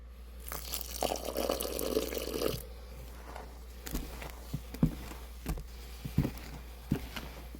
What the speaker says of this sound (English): so I'm going to add a little bit more water in there.